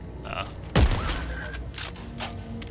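A plasma cutter fires once in Dead Space 3, a sharp burst with a short ringing tail, heard amid game sounds while people talk around it.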